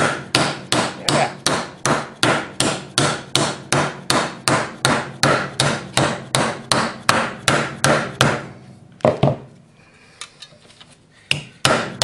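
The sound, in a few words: hammering sheet metal to form a Pietenpol elevator horn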